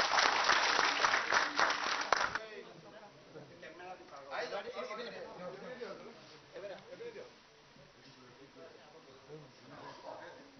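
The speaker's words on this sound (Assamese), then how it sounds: "এটা বৃহৎ হাত চাপৰি হ'ব লাগে।" A crowd at a political party joining event in Assam bursts into loud applause that fades after about two seconds, then scattered murmurs and faint voices continue underneath.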